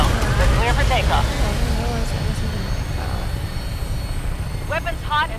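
A helicopter in the Fallout 4 video game lifts off with a steady, loud rotor and engine roar throughout, while voices talk over it.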